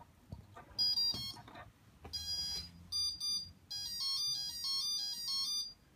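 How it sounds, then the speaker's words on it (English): A BLHeli 14.2-flashed Q-Brain 4-in-1 ESC plays its calibration tone through a single connected brushless motor: a string of clear electronic beeps and melodic tone sequences, close and fairly loud, with a low background hum. "so that's the calibration tone you get with BLHeli"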